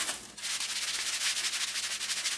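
Rusty drill press part rubbed by hand with 600 grit sandpaper, a steady close scratchy rasp in quick back-and-forth strokes, no talk.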